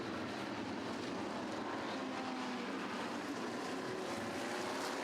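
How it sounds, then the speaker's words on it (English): F5000 open-wheel racing cars roar past at Taupo during a Class A race, a loud, steady engine roar and wind rush filling the whole stretch without a break. "as they go by the number 8 of Kerry Anderson running in Class A"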